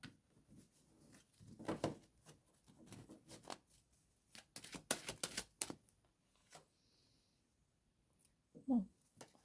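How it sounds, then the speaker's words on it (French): Tarot cards being reshuffled by hand, with soft, uneven bursts of riffling and card slaps separated by quiet gaps, faint and close. "Allez, on remélange."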